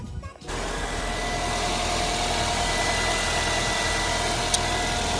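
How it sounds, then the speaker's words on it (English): A Nissan Altima engine, just fitted with a new catalytic converter, starts and settles into a steady, even idle with a constant low hum that continues unbroken and close. "when I start this bad boy up, make sure we got no exhaust leaks"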